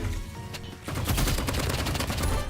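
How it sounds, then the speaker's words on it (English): Gunfire from a sniper rifle during a one-on-one video game match, a burst of loud, dense shots that starts abruptly and continues as rapid, overlapping cracks, with no talking. "As you can hear, he has sniper."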